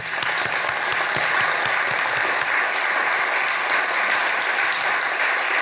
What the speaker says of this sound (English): A round of applause for Alexander.